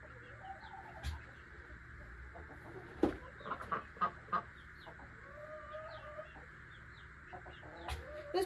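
A chicken clucking softly in a farm coop, with short scattered clucks and a few sharper calls over a faint steady hum, fairly close and otherwise quiet.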